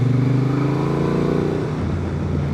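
Honda Transalp 750 with E-Clutch riding a gravel road in gravel mode, its engine droning steadily and close throughout with a low rumble that roughens slightly toward the end.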